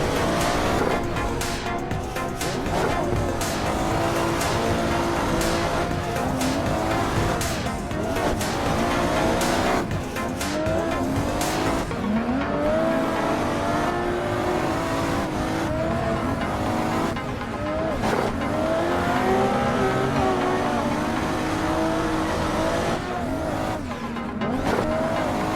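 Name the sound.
Toyota JZX100 drift car engine and tire squeal, Assetto Corsa video game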